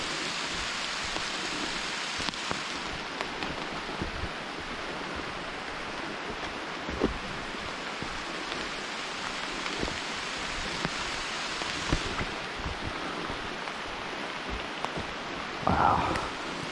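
Steady rain falls on a forest trail in the Moshannon State Forest, a broad continuous hiss close around, with occasional louder drips and a soft low rumble, no talking.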